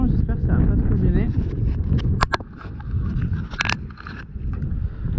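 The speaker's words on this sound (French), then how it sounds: "Il y a un petit peu de vent, j'espère que ça va pas trop gêner." Wind buffets the microphone and rushes steadily around a moored cruising sailboat, with light clicks and knocks now and then. Someone talks over it the whole time.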